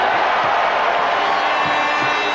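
Basketball arena crowd at a FIBA World Championship game between the USA and Brazil, a steady loud roar of many voices filling the space without a break.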